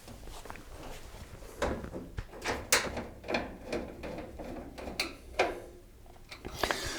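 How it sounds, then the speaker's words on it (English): Side panel screws being driven back into a vented tumble dryer cabinet produce faint, close clicks and ratcheting scrapes in an irregular series, without talking. "I'm just going to re-screw all 4 screws that hold the side panel in place to make the cabinet more rigid"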